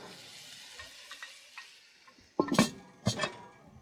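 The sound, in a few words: sausage sizzling and stirred in a pan at camp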